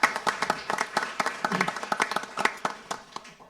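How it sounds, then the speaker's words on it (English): A small audience at a press session on affordable housing claps for a town official: sparse, distinct handclaps from a modest group, fairly quiet and uneven in rhythm, with no talking over them. "Round of applause."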